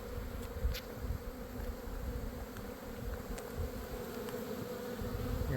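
Honeybees buzz around hive boxes in an almond orchard, making a dense, steady hum of many insects close by with a few individual bees flying past, and no talk.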